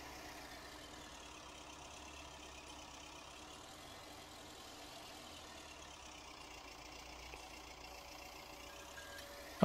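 A tractor engine idles in Farming Simulator 19, a steady low rumble with a faint mechanical hum holding evenly throughout, quiet and unbroken.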